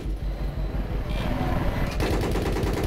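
Machine-gun fire in the video game Battlefield, a dense continuous burst of rapid shots that grows louder and harsher partway through, with no talk over it.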